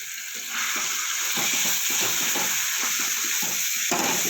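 Ground spices with turmeric, Kashmiri chili powder and cumin sizzle steadily in a pan, a continuous close frying hiss with faint stirring scrapes and no talk.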